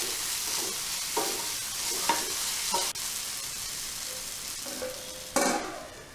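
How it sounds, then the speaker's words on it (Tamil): Tomato masala with garam masala stir-fries in a pan, a constant close sizzle broken by several scraping stirs and one brief louder burst near the end, with no voices. "இப்போ கொஞ்சம் கரம் மசாலா போட்டு அதையும் நல்லா கலந்து விட்டு வதக்கிக்கலாம்."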